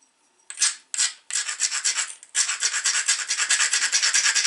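Dacite flakes drop and scatter on the ground while a preform is knapped, making close, dry raspy rustles: two short bursts, then a longer gritty patter that keeps going to the end.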